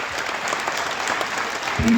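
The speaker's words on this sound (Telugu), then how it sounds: "అసలు చప్పట్లు కొట్టడం అంటే ఇలా కొట్టాలి" A crowd at a Kuchipudi dance academy anniversary event in Hyderabad applauds with continuous, even clapping; a voice begins speaking over it just before the end.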